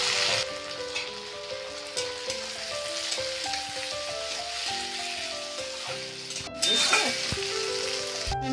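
Tomatoes frying with vegetables in a pan for veg tawa pulao, giving a steady close sizzle with crackles like rain throughout, a louder burst near the end as they hit hot oil, and no voices.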